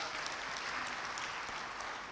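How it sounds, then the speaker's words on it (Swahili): An audience at the Tanzania Health Summit 2023 applauds its sponsors, a dense, steady wash of many hands clapping at an even level for the whole brief stretch. "naomba tuwapigie makofi mengi sana."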